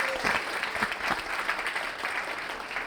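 Audience applause at a leadership breakfast program, a steady wash of many hands clapping throughout, dense and continuous with no talk over it.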